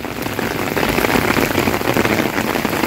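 Heavy rain pours down onto the ground and a nearly overflowing swimming pool in Valencia, a loud, dense, steady hiss of drops hitting surfaces without letup.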